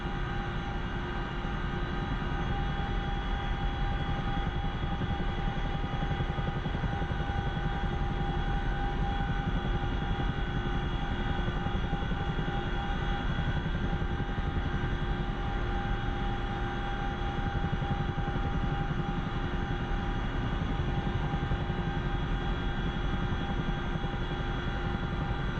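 Steady, unbroken aircraft engine roar climbing after takeoff in the DCS flight simulator game, a constant dense drone with a faint tonal whine holding level throughout, loud and uninterrupted with no voices.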